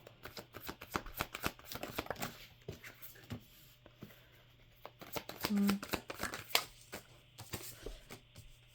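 A deck of oracle cards is shuffled and drawn close-up, with repeated soft riffling and slapping bursts of card noise separated by short pauses.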